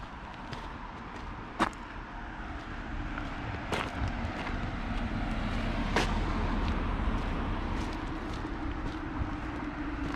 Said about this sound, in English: you hear all the cars going by.